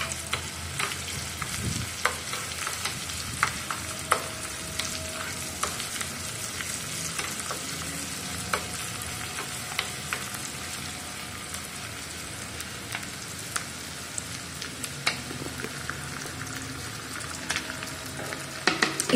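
Chopped onion frying with fennel seeds and pepper in a pan for a mushroom gravy: a steady, soft sizzle runs throughout, broken by scattered crackles and the scrape of stirring, with no voices.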